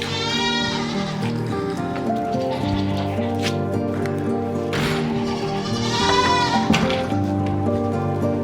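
Goats bleating during morning milking, several wavering, drawn-out calls close by that repeat and overlap against a steady farm background.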